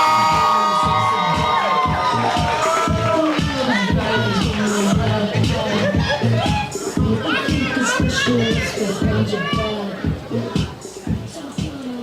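Audience at a live poetry event in Houston cheers and shouts loudly and steadily, with a pulsing rhythm like rhythmic clapping underneath, the roar thinning slightly toward the end.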